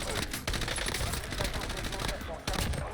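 Rapid automatic gunfire from a weapon in Warzone crackles in dense bursts with brief pauses, fairly quiet and continuous throughout.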